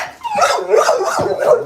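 A big dog barks in a few quick, loud, close-up bursts with a slight whining edge, heard alone with no talk over it.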